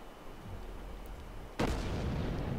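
Main guns of the USS New York battleship in World of Warships fire in one sudden, heavy boom partway through, over a low background rumble, followed by a sustained loud roar with no speech.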